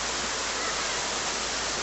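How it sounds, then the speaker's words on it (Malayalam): The steady, close roar of the 33 Waterfalls pours on without a break, a dense rushing wash of falling water that fills the whole moment with no other sound rising above it. "33 വാട്ടർഫോൾസ് അടിപൊളിയാണ്, അതിമനോഹരമാണ്"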